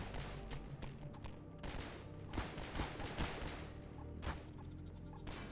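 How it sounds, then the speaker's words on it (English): Guards firing guns in the video game Half-Life 2, dense bursts of gunfire with sharp individual shots and rapid volleys crackling throughout, loud and close. "I backtracked to the attic to find some guards conveniently blocking the way and shooting at me."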